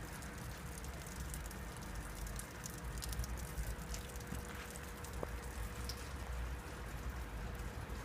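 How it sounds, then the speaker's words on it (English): Light rain falls during a thunderstorm that is turning to snow, a faint, steady hiss and patter with no voices. "in the storm right now, and it looks like rain's actually turning into snow"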